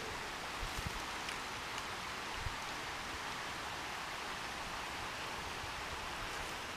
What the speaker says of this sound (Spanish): Me acerco de aquí, porque aquí me parece que hay un río.